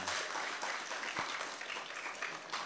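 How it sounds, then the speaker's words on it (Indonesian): A religious gathering breaks into a round of applause after a Quran recitation, a diffuse wash of clapping from a seated crowd that holds steady and fairly soft throughout. "Iya, tepuk tangan"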